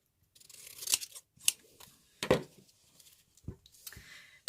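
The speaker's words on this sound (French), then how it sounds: "je vais déjà bien le découper comme ça" Scissors snip through paper card in several separate cuts, crisp and close, with short pauses between strokes while shapes are cut out for an ATC flower-themed artist trading card.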